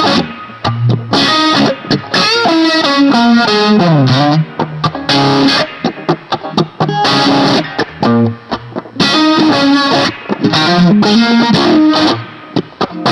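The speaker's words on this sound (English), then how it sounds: "Now let's go ahead and add the fuzz to that," An electric guitar played through a fuzz pedal gives a loud, thick, saturated tone with sustained chords and lines. It plays continuously with brief gaps and no talking.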